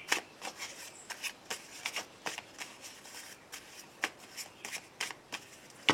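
Tarot cards shuffled by hand during a daily card reading, a close run of crisp riffling bursts in an uneven rhythm, quiet and with no talking.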